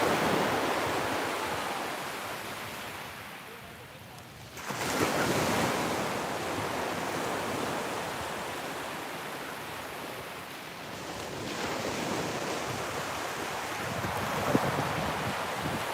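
Ocean surf rolls onto a beach in a broad, continuous wash of breaking waves, buffeted by wind noise on the microphone, with a louder surge building midway and again near the end.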